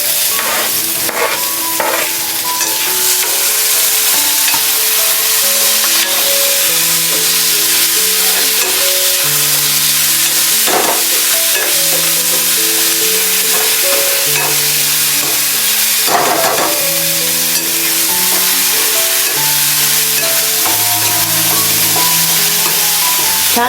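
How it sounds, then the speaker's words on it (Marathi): Onion and tomato with turmeric and coriander powder sautéing in a pan, a steady close sizzle with occasional stirring scrapes, along with background music. "छान असं परतून घ्यायचं आपल्याला कांदा आणि टोमॅटो."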